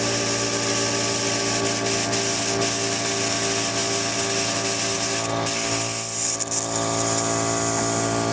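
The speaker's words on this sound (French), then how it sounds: "qui va à la fois ajouter de la saline et aspirer la saline de manière à bien laver et rincer les microcupules." A laboratory plate washer adding and aspirating saline to rinse microwells, a loud continuous mechanical hum and whir with steady tonal drone, faint periodic clicks, and a brief sucking shift partway through.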